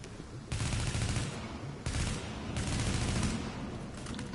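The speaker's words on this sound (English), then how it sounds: "I love my double barrel shotgun." A double-barrel shotgun fires in The Division, a video game: several loud, close blasts in quick succession, each with a heavy rumbling tail that bleeds into the next.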